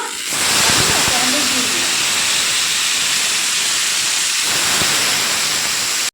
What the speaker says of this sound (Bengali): এবার ওই তেলের মধ্যে শুকনো লঙ্কা আর একটু কালো জিরা ফোড়নে আমি দিয়ে দিলাম